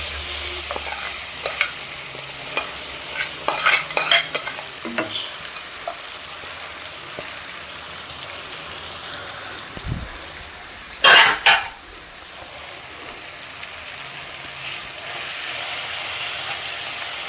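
Moong dal and cooked ponnaganti greens stirred in a frying pan after tempering, with a spoon scraping and clinking over a steady close sizzle and a brief throat-clearing sound midway.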